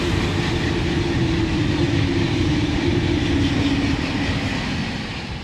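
A high-speed train roars past at about 300 km/h in a steady, loud rush of rail noise that begins to fade toward the end.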